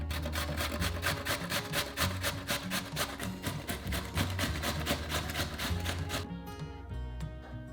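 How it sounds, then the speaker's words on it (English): A cucumber being grated for a raita yoghurt dip, with quick, even rasping strokes against the grater repeating in a steady rhythm for several seconds. The scraping sounds close, and it slows and thins near the end. "grate the cucumber with a grater"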